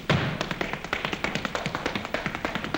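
Tap dance steps in a 1937 musical beat out a rapid, steady rhythm of crisp shoe taps, loud and close, continuing evenly without talk.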